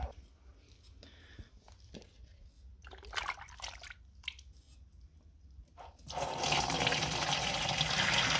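Warm water gushes from a tap for mixing garden tomato sprays, a steady loud rush that starts partway through after quieter handling clatter.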